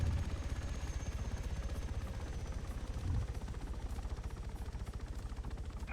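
Helicopter rotor in the video game Arma 3 during a city battle, a steady low rhythmic chopping thump that holds throughout with only a brief swell partway through.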